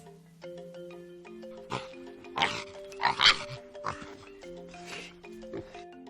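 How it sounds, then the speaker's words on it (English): A pig grunts and oinks in several short, uneven bursts, heard close and moderately loud over a sustained musical background tone. "Let's listen to the sound that a pig makes."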